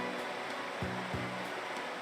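Steady broadband rushing of a waterfall in a drowned city dungeon of Etrian Odyssey 3 HD, a constant hiss with faint low thumps underneath.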